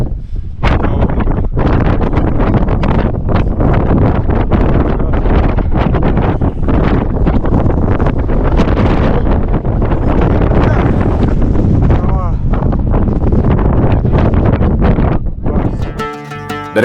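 Strong, steady wind roars and buffets the microphone along a mountain crater rim on Gunung Slamet, loud and continuous with gusty rumble throughout, and no voices.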